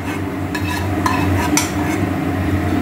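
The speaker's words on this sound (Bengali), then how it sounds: "এবার এটা এর মধ্যে মিশিয়ে দেওয়া হচ্ছে" Close-up stirring of tomato into elephant foot yam in a frying pan, a spatula scraping and clinking in a few quick strokes over a low sizzle.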